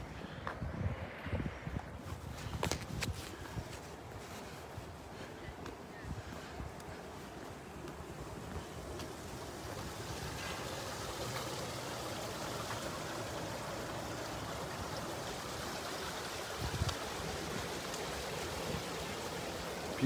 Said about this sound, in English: pools of flowing water.